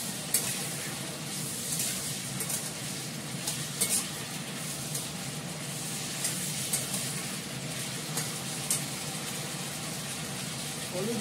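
Food fries steadily in a pan, a continuous sizzle that holds at an even level throughout with a few faint stirring clicks.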